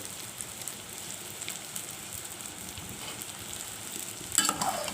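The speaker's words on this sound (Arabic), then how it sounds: "نقلب شويه ونهدى شويه" Molokhia sizzling in a pan as it is stirred, a dense, even crackle like rain with occasional scrapes and a louder burst near the end, heard close and alone.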